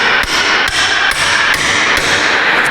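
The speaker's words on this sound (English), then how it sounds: "So you want to hit back here, start tapping." A hammer taps a front axle shaft into place in about six sharp metallic strikes spaced roughly half a second apart, close and loud against a steady background noise.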